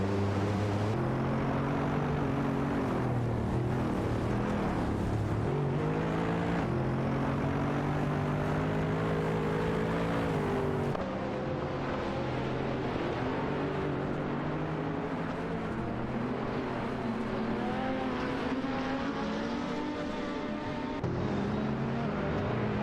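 Race cars in a racing video game drone steadily, layered engine tones rising and shifting in pitch with sustained, loud, unbroken roar throughout and no voices.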